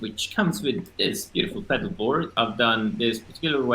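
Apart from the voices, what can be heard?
None of the usual background noises is heard.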